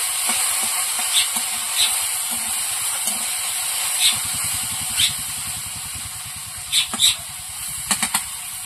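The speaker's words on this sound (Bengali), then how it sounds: "মাঝে মধ্যে একটু ঢেঁড়স তুলে নেড়ে দেবো, না হলে পুড়ে যাবে, নিচে লেগে যাবে।" Okra fries in a pan with a continuous hiss and sizzle, broken by repeated soft scraping and tapping stirs scattered throughout.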